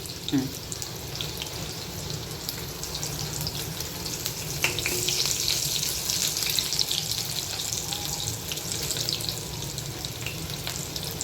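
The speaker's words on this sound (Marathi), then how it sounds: "लसूण लाल होईपर्यंत परतत राहायचं असा." Chopped garlic frying in a pan until browned for a Sunday chicken rassa, a steady broadband sizzle running the whole time with a few brief clinks and stirring scrapes.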